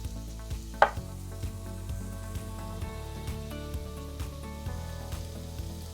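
Celery and onions sauté in butter for clam chowder, a soft, steady sizzle with faint crackles and one sharper clink, over a low droning hum.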